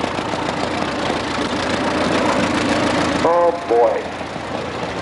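An antique Case tractor engine chugs at a parade at the Great Oregon Steam-Up farm fair, a steady knocking idle that carries throughout, with a person's voice briefly heard near the end.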